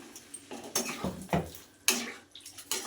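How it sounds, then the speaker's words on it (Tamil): Water splashes and trickles into a metal pan of prawn gravy, poured from a blender jar that ground garlic, with clinks of cookware and a few short pouring bursts. "அந்த தண்ணியை நான் இப்போ இதில் சேர்த்துக்கிறேன்"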